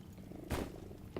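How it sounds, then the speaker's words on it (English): A cat purrs in a video game: a brief, soft, rumbling purr heard on its own, with a short louder swell partway through. "You can hear them purring too"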